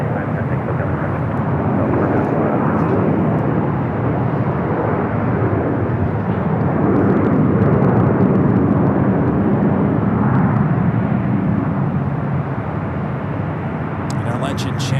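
An Emirates airliner taxis at LAX with a loud, steady engine roar that swells slightly midway and holds throughout, with people talking over it.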